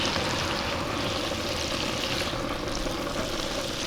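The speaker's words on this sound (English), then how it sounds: "I'm gonna stir this around a little bit" Cauliflower and zucchini sizzle steadily in butter on a Skottle griddle while being stirred, a dense continuous frying hiss with faint scraping, close and alone with no talk.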